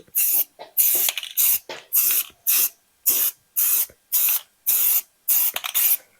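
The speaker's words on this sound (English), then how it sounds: "So now we're gonna spray this stuff on here" Repeated short bursts of hissing spray, about a dozen in steady rhythm, close and loud with brief silences between each pump, as liquid is sprayed onto the rusty underside of a 1968 Ford Mustang.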